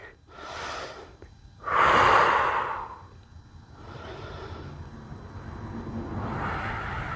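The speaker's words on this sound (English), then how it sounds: "We're going to take a few rounds of breath." Deep breathing during a yoga stretch: slow, audible inhales and exhales, one strong forceful breath standing out among softer ones, close to the microphone over a low background rumble.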